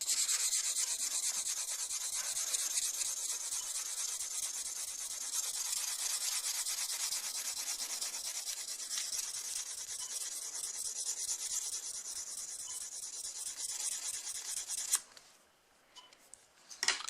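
Hand sanding with a 3000 grit pad during polishing, a continuous fine rapid rubbing hiss, close and steady, stopping near the end with a few faint scuffs.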